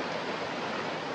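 Flowing water at the Harnoi Main Waterfall in Pakistan gives a steady, broadband rushing hiss, continuous and fairly near, with no voices over it.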